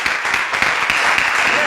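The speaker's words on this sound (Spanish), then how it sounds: "Dale un aplauso aquí." A church congregation claps together in dense, steady applause, loud and sustained throughout.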